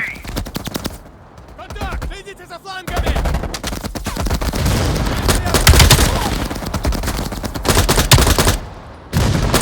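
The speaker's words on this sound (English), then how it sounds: "Mel, take out that MG." Machine gun fire in Call of Duty Black Ops Cold War rattles in long rapid bursts with dense overlapping gunshots and explosions, loud and near, with voices talking over the battle.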